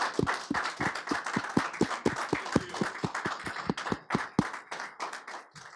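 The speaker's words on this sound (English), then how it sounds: "if you can just cheer him on and give him a huge round of applause" A podcast audience claps to welcome a guest, with sharp, close, quick claps at a steady rhythm that carry on for several seconds, then thin out and stop.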